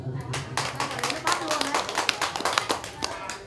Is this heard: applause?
yes